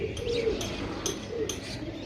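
Pigeons offered for sale cooing softly, a few short low coos under faint background noise and occasional chirps.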